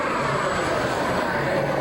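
A CARF Models MiG-17 scale model jet roars steadily at a flying display, a continuous distant turbine rush with no voices over it.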